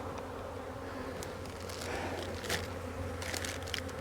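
Honeybees from a very strong hive buzz steadily close by, a dense continuous hum holding through the whole stretch, with faint crackles and handling noises on top and no talking.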